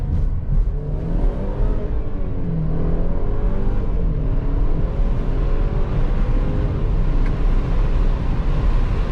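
A 2022 Mercedes-Benz C300 engine revs steadily after a paddle-shift downshift to first gear, a loud continuous drone with road and cabin rumble throughout.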